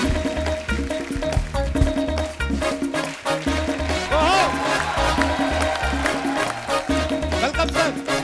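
A studio audience on The Kapil Sharma Show claps and cheers to welcome guests, steady applause mixed with loud music and voices.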